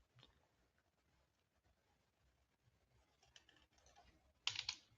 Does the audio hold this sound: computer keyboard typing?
yes